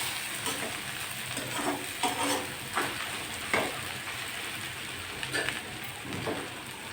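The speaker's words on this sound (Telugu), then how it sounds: "ఇప్పుడు టమాటాలు వేసుకున్నాం." Chopped tomatoes frying and being stirred in a pan with cooked gongura leaves, a steady sizzle with intermittent scraping stir strokes, close and fairly loud, no talking.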